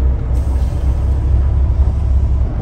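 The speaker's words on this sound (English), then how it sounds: "I'm going to go ahead and pull the trailer brake valve" A semi truck's trailer brake valve is pulled, a sharp hiss of air bursting in and then holding as a steady high whoosh over the loud low rumble of the idling rig, with no talking.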